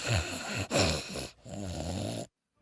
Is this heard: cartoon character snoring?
yes